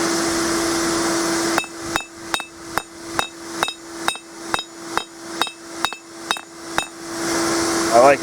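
Steady metallic hammer blows forging a metal keychain feather, about a dozen evenly spaced ringing strikes over a constant mechanical hum.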